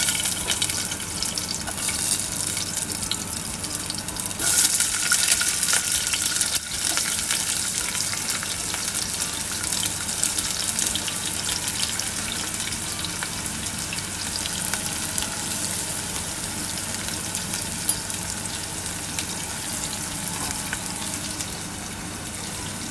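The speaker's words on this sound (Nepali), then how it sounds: "आलु र बिन्स पाक्दैछ." A potato and bean curry simmers and fries in a pan, a long, steady hiss of sizzling with a brief louder gush of running water early on, close and even, no voices.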